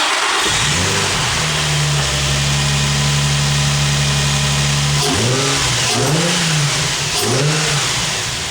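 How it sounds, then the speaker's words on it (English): An Infiniti G35 engine, just fitted with a new engine damper, cranks and catches, settles into a loud steady idle, then gets several sharp throttle blips that rise and fall in quick succession. "I'm gonna start it up and see what happens."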